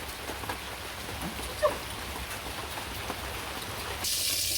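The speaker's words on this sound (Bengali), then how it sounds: "আজকে ঝিরি ঝিরি বৃষ্টি" Light drizzling rain on a village afternoon, a soft continuous patter on surfaces, faint and distant, with a brief small sound partway through.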